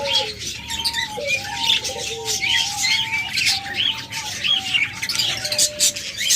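Caged pet birds, cockatiels, lovebirds and budgerigars, squawking and chirping in a busy chorus with repeated sharp calls and whistles, fairly loud and close, with faint talk underneath.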